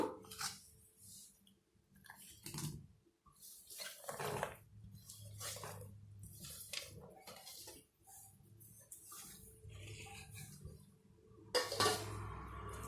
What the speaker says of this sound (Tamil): பொடி அரிஞ்ச ஒரு தக்காளி கொஞ்சம் சின்ன வெங்காயம் கொஞ்சம் மல்லித்தலை இதை வந்து மாவில் கலந்துக்கலாம்